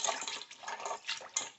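Toor dal lentils get rinsed by hand in water, a continuous close swishing and sloshing with small splashes and no talk.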